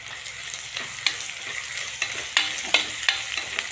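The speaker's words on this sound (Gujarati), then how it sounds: "લસણ અને આદુની પેસ્ટ નાખું છું" Garlic and ginger paste sizzles in hot oil while being stirred, a continuous close fry with a series of sharp scraping stirs over it.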